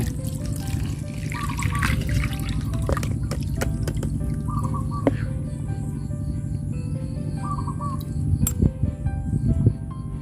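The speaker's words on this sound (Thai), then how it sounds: "แม่วีก็จะนำมากรองเอาแต่น้ำเลยนะคะนี่เลย นี่ค่ะกรองเลยค่ะ" Fermented red liquid from a homemade insect-killing brew strained through a filter, a steady continuous trickle and splash of pouring liquid close by, with faint clinks near the end.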